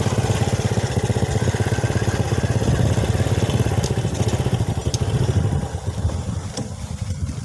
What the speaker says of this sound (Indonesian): jalannya bergelombang dan motornya agak naik turun